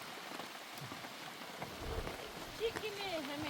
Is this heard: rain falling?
yes